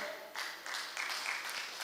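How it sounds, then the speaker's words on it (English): An audience at an annual lecture applauds as a speaker comes forward: a steady, fairly close wash of clapping that holds for about two seconds, with brief surges in intensity. "We can make the applause louder."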